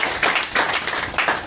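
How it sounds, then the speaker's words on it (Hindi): Clapping at a business meeting, four loud, evenly spaced claps in quick rhythm, close and clear. "जोर से ताली बजाओ"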